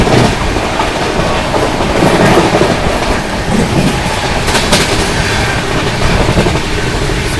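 Mumbai Central–Nizamuddin Duronto Express running through Sawai Madhopur Junction, a loud, steady roar of rolling wagons with rhythmic wheel clatter and rail noise throughout, heard close from on board with no speech.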